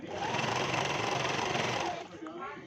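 A sewing machine stitches a dhoti salwar, a steady fast whirring run for about two seconds that then stops.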